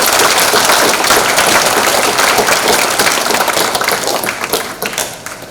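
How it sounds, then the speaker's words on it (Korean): Attendees at a memorial ceremony in Yeosu for the anniversary of South Jeolla student soldiers' deployment in the 6.25 war break into loud, dense applause that fills the room and tapers off toward the end. "일동 같이 박수합시다."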